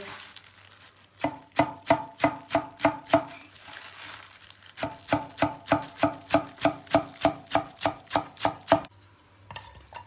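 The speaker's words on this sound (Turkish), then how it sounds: "Sıra geldi ıspanaklarımızı doğramaya." Quick regular knife chops through spinach on a cutting board, two long runs of even strokes separated by a short pause, close and crisp.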